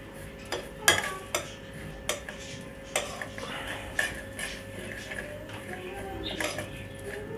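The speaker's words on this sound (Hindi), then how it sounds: "इसको दाने को हल्का सा मिक्स करते रहें" Seed grains being stirred in a metal pan over gentle heat, with a spoon scraping and clinking against the pan in irregular, fairly close strokes and a faint sizzle underneath.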